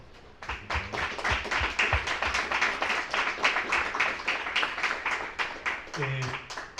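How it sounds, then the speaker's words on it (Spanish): Steady applause from a small crowd, a dense rhythmic patter of clapping hands that continues throughout, with a voice briefly speaking underneath near the end. "Un aplauso, por favor"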